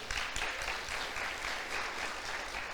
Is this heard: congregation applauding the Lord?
yes